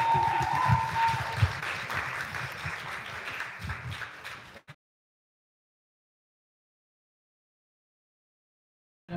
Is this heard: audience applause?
yes